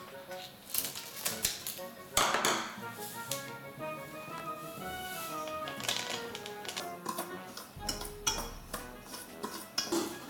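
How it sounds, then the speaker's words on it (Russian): A spoon or utensil clinks and scrapes in a bowl while water is stirred into Borodinsky rye bread dough, with irregular tapping knocks, soft close kitchen sounds and faint voice in the background. "Постепенно добавляю воду и размешиваю."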